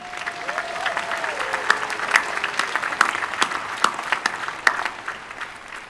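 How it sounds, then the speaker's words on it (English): An audience at a university commencement claps continuously, with scattered sharper claps standing out from the steady applause; a faint tone drifts underneath early on. "Please join me in a round of applause for them"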